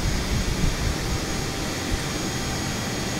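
Jet aircraft engine roar on approach toward runway 24, a steady loud broadband rumble that stays constant throughout with no voices.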